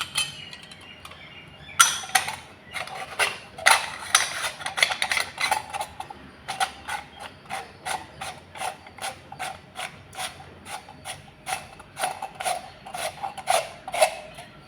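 A murukku press being assembled with a three-hole die fitted in and screwed on, producing a long run of close, rapid ratcheting clicks and scraping turns in an uneven rhythm.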